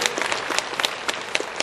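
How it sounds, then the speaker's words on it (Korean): A church congregation claps together during a Sunday worship service, a fairly loud, dense burst of many hands with sharp individual claps standing out near and far, no voices over it. "함께 감사의 박수 한번 다시 한번 돌려드립니다."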